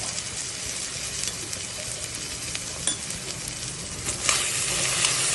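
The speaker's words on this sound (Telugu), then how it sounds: "ఇలా వేగుతున్న నూనెలో జీలకర్ర, ఎండుమిర్చి, కట్ చేసి పెట్టుకున్న పచ్చిమిర్చి, ఆనియన్స్ ఫ్రై అవుతున్నాయి కదా" Onions, cut green chilies, dried red chilies and cumin seeds fry in hot oil with a steady, close, crackling sizzle that swells briefly near the end, with no voices.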